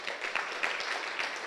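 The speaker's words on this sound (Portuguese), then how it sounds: "Vamos dar uma linda salva de palmas ao Senhor." Congregation applauding during a Sunday church service, a steady dense patter of many hands clapping at moderate level, with no talk over it.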